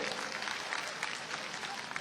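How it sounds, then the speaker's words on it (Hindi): Steady applause from an audience at a public event in Bhopal, a dense continuous clatter of clapping hands with a voice speaking faintly beneath it. "पक्का जोरदार ताली बजा"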